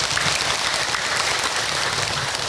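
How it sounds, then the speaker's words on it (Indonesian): An audience at a religious talk on marriage claps for a participant, a dense, loud, continuous wash of applause with no distinct individual claps and no talk over it. "ibu tepuk tangan untuk Ahilman."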